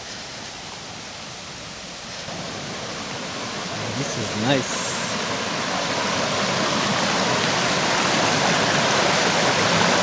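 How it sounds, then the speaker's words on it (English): A river flows steadily in a remote Aberdare setting, making a broad, continuous rushing wash that swells slightly louder over the span, with a short spoken remark partway through. "There's a river here."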